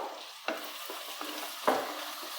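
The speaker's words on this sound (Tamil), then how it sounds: "வெங்காயம் வந்து நல்லா டார்க் ப்ரௌன் கலராக வரணும் அந்த அளவுக்கு நல்லா வதக்கி எடுத்துக்கோங்க" Onions sauté in a pan toward dark brown for a cooling rice dish. A soft steady sizzle runs throughout, broken by a few distinct scraping strokes of a spoon, heard up close with no voices.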